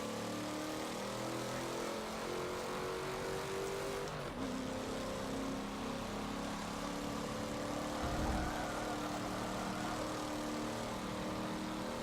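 A modified car's engine in an Xbox One racing video game drones steadily, its pitch rising and shifting as the car accelerates, with no talking.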